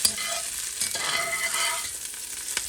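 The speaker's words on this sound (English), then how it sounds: "Let's caramelize these onions." Onions caramelizing in a pan, a close sizzle with spatula stirring and scraping strokes, fairly loud and continuous with no talking.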